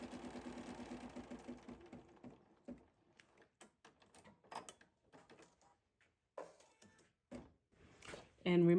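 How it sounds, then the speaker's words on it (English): A sewing machine runs a placement stitch for foundation paper piecing, whirring steadily for about two and a half seconds before stopping, followed by scattered clicks and handling noises while someone talks. "now we're gonna stitch down our first placement stitch"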